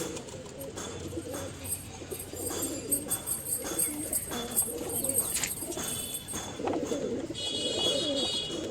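A female pigeon coos in a loft, soft low calls repeating amid a busy background of other birds chirping and faint rustling.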